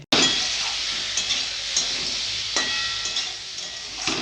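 Kashmiri chili, turmeric and coriander powders sizzle in hot oil while a spoon stirs and scrapes the pan for a fish curry with radish, a steady near frying hiss broken by a few sharp clinks of utensil on metal.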